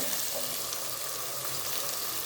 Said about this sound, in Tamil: ஆயில் சூடானதும் கட் பண்ணி வச்சுருக்க ஓனியனும் பூண்டையும் போட்டுக்கோங்க. சரியா? போட்டு நல்லா கிளறி விடுங்க.